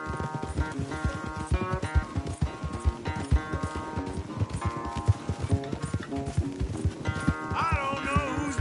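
Horses gallop in a race in Red Dead Redemption: steady, rapid hoofbeats pound close by throughout, with a tonal musical score playing underneath.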